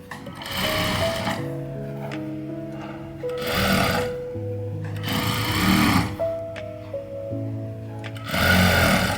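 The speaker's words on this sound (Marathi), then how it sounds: "आता ह्या शिलाईनुसार मी अर्धा इंचावर शिलाई देणार" A sewing machine stitches a half-inch seam joining a sleeve to a blouse. Loud, close motor whirring rises and falls in several runs, with steady rhythmic needle chatter and quieter hum between the bursts.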